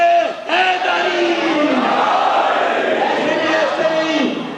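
A majlis crowd roars back the Naara-e-Haidari slogan in unison, a loud sustained mass shout lasting several seconds after a brief lead call.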